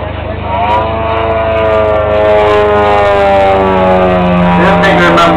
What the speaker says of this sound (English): Beautiful throttling capabilities of that engine, total reliability for flying of this type.